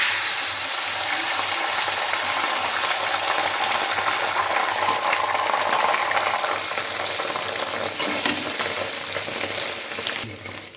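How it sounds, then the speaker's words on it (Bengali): A paratha egg roll fries in a pan with a bright, continuous sizzle, the crackle steady and close, rising slightly in the middle before easing toward the end. "এক পিঠ হালকা করে ভেজে নিয়েছি আর এক পিঠ কিন্তু কড়া করে ভাজবো।"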